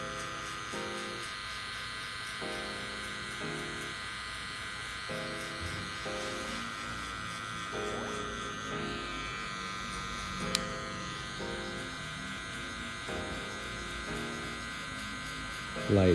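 Electric hair clippers with a number 1 guard cutting hair for a low fade haircut, a steady close buzz running throughout with rhythmic variations as the clippers pass, while someone talks over it.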